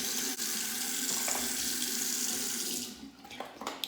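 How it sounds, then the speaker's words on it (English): Water runs steadily from a bathroom tap as a freshly shaved face is rinsed, a close hissing stream that stops near the end, leaving a few small splashes and drips. "Okay, so we'll rinse that off. A final rinse. Hot, then cold water."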